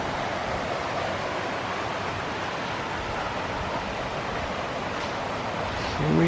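The Little River in the Great Smoky Mountains rushes steadily in a broad, continuous wash of flowing water, close and even, with no voices.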